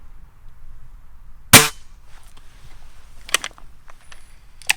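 A secondhand BSA Lightning XLSE spring air rifle fires a single sharp, close crack followed by a faint twangy ring, then quieter mechanical clicks and handling noises.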